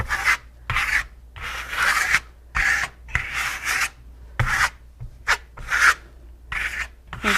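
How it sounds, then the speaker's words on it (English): Putty knife scraping excess Shimmerstone and trowel marks off a wall surface, heard as a series of short, rasping strokes about half a second each, close and fairly loud, with brief pauses between them and no talking. "And just scrape off any trowel marks that you've got on there, any excess Shimmerstone that might be on the surface."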